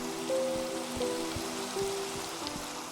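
Minecraft rain on a Skyblock server, a steady patter of drops under faint held game tones and soft clicks, continuous and moderately loud.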